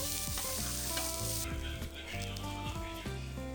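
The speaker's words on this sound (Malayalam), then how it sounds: "റൈസ് പാകമായി കഴിഞ്ഞാൽ പിന്നെ നമുക്കതിൽ ദമ്മിനിടാൻ വേണ്ട കിസ്മസും കാഷ്യും ഒണിയനൊക്കെ നമുക്ക് ഫ്രൈ ചെയ്തെടുക്കാം." Raisins, cashews and onions fry in butter, a soft continuous sizzle with stirring and clattering as they are moved around the pan, faint tonal music playing quietly beneath.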